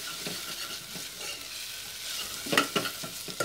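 Onions sautéing with salt in a pan for a pepper beef curry, a steady soft sizzle broken by repeated scraping stirs that grow louder and quicker toward the end, with no voices.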